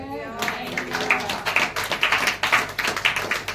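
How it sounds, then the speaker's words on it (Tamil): A church congregation claps in rhythm during a Sunday sermon, a steady run of sharp hand claps at moderate distance, with a preacher's voice running underneath. "கைதட்டு"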